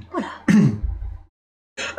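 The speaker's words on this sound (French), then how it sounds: "Excusez-moi pour cette toux" Throat clearing and a harsh cough during a Tipperary board game session, two close bursts followed by a pause and another short burst.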